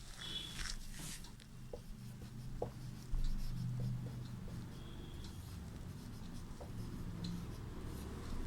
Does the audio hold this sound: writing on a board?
yes